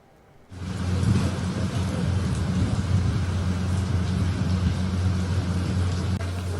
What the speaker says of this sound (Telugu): హైదరాబాద్ లో మరోసారి వర్షం దంచి కొడుతోంది.